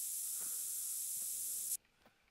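Scent spray hissing from a can in the hunting game theHunter: Call of the Wild, one continuous close spray that cuts off sharply after under two seconds and leaves faint quiet.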